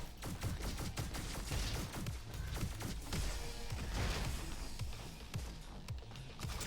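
Roboquest first-person shooter combat: dense rapid gunfire and blasts crackle continuously in a loud, chaotic barrage with no speech.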